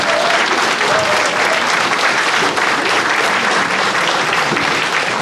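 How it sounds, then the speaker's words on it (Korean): Loud, dense applause from an audience at a Korean panel discussion, continuous clapping filling about five seconds without a break. "다시 한번 큰 박수 부탁드리겠습니다"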